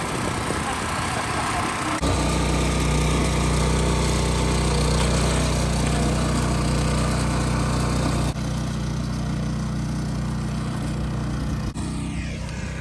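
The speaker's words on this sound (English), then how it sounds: "if you leave your tiller running, just shut the fuel off and let it run out of fuel" Small engine on a garden tiller running steadily close by, a loud continuous droning hum with a brief dip partway through, no talk over it.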